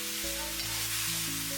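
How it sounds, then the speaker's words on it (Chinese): Pan-fried tofu stirred in a wok with mushrooms and tomatoes, giving a steady close sizzle under a continuous hiss, with a low hum underneath. "接下来把煎好的豆腐直接倒入锅里，稍微翻动一下"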